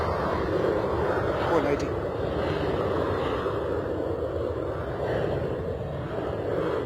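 An aircraft on the runway at London Stansted Airport, a continuous broad engine roar that holds steady throughout, with a brief spoken remark over it.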